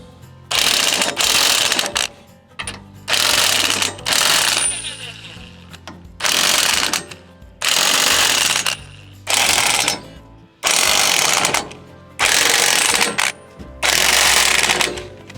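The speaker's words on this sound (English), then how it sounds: "You can pick up a geared electric impact gun, say at Harbor Freight." A geared electric impact gun loosening bolts on a TYM T25 tractor during its 50-hour service, nine loud rattling hammering bursts of about a second each, separated by short pauses, close up and with no talk.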